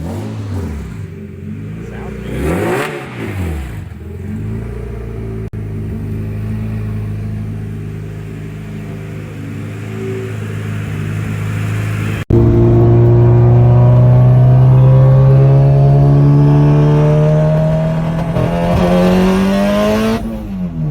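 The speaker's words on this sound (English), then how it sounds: "you can hear a pretty bad misfire" AWD Honda Civic with a new exhaust revving hard and misfiring, loud close engine sweeps rising in pitch with rough, uneven pulses and a brief cut partway through.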